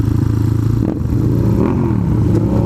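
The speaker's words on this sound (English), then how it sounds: "don't even know what kind of bike that is, but sounds neat" A motorcycle revs and accelerates hard, a loud steady engine roar with rising pitch sweeps, close by and continuous with no talk over it.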